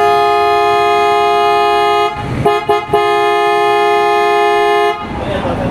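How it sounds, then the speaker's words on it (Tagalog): PIAA horns fitted to a Toyota Tamaraw blaring in long, loud, steady tones close by, broken by a brief stutter of short toots before a final sustained blast. "Test natin mga kaibigan ang horn. Parinig natin sa inyo mga kaibigan kung gaano kalakas."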